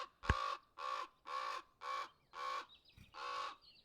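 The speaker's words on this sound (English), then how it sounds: "It's a crow." A crow or raven caws six times in a steady, evenly spaced series, loud and close, with no other sounds.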